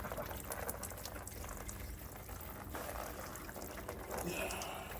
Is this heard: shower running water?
yes